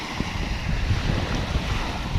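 Wind and sea waves on an East Sea beach, a steady loud rush of surf with heavy wind buffeting the microphone throughout, no voices.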